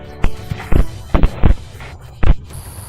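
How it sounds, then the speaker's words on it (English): Several sharp gunshots ring out in a loose volley at night during a wild boar hunt in a field, about six loud bursts spaced unevenly over a few seconds with no talk. "A thunderous volley of gunfire erupted, tearing through the night."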